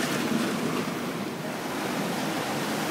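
Ocean water rushing in around a giant stone ball on the Australian coast, a loud, continuous wash of surf with wind noise buffeting the microphone, no voices.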